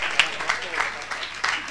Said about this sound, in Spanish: dale un aplauso, que así se anima